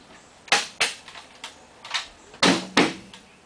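A staple gun fires staples into strips on forms, giving six sharp, loud snapping shots in an uneven rhythm, close by, with short quiet gaps between and no talking.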